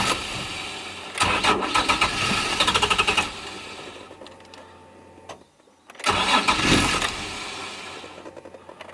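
A turbocharged Nissan 350Z running on E85 fuel cranks loudly in two separate bursts, each lasting about two seconds, with a quieter stretch between them and no clear catch into a steady idle.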